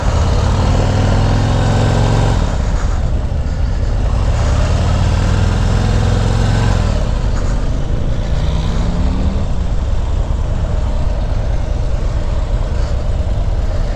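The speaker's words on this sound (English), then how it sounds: "this 884-pound monster has a 117 cubic inch M8 engine in it. And a mean sounding exhaust." A 2019 Harley-Davidson CVO Road Glide with a 117 cubic inch Milwaukee-Eight engine and an aggressive exhaust runs close by, a loud, continuous rumble whose pitch shifts and swells as the engine revs.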